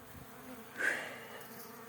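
Honeybees on a brief winter cleansing flight outside the hive, a faint soft buzz with one bee passing close and louder for a moment before fading back into a low hum.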